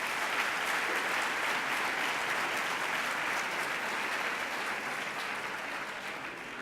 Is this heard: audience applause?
yes